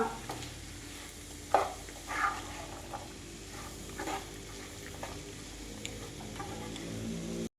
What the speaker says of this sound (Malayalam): എന്നിട്ട് ഇളക്കി കൊടുക്കാം. നല്ലോണം ഇളക്കിയിട്ട് വിനാഗിരി ഒഴിച്ചെടുക്കാം കേട്ടോ.